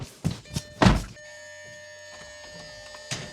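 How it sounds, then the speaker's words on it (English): The hood of a crashed Lamborghini Gallardo being rebuilt in a home garage is lowered with a couple of soft bumps and one solid thunk, followed by a quiet electrical hum, near and fairly quiet. "now let's put the hood back down and we'll check our fluids"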